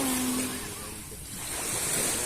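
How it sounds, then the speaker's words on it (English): Ocean surf rolls onto a beach at a Bohol resort, a steady broadband wash that swells, dips briefly, then builds again, with some wind noise and no speech. "Beautiful, relaxing sound of the waves."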